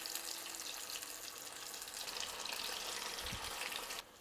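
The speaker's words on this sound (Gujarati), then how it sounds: "જ્યારે કડાઈમાં આપણે ભજીયા મૂક્યા ને ત્યારે વધારે બબલ્સ થતા હતા" Leftover-rice bhajiya batter fries in hot oil in a kadai with a steady, close, bubbling sizzle that continues for about four seconds before easing off.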